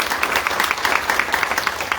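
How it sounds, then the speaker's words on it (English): A room full of people applauds presenters at a community meeting, with steady, dense clapping that stays at an even level and continues through the whole stretch, without any voices breaking through. "Would you mind giving a round of applause to Chief Mylett and Gert Williams for their presentations?"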